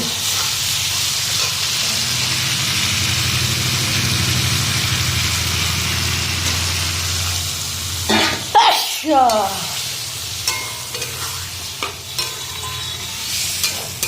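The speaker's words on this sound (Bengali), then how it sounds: "এখানে দেখো আলু পটলটা ভালো করে কষানো হচ্ছে" Potatoes and pointed gourd fried with spices in a pan give a steady sizzle for several seconds, then a few sharp stirring clatters and scrapes take over as the frying quiets.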